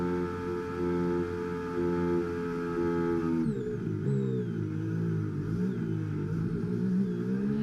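A Formula 1 race car engine in the video game F1 25 at the Japanese Grand Prix, holding a steady high-pitched rev and then dropping to a lower, rougher note as it shifts gear, with no talking.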